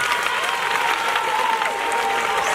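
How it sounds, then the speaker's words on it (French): A crowd applauds at a school ceremony marking the donation of 200 benches to Ango Ango school in Bandal, Congo. The clapping is loud, dense and steady throughout. "applaudissons pour les profils."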